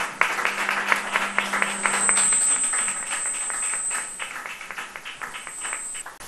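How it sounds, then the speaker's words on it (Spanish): Audience applause at a flamenco conference held by a peña flamenca in Almonte, a dense steady clapping from a room full of people lasting several seconds, with a faint thin feedback whine over part of it. "Un aplauso para ellos."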